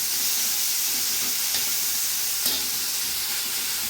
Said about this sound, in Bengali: সুন্দর ভাজা হয়ে গেছে আম, টমেটো, পেঁয়াজ, রসুন